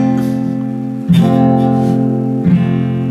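A guitar barre chord, one finger pressing down all the strings at once, strummed cleanly three times, each strum ringing out in full, sustained harmonics close and loud with no talking.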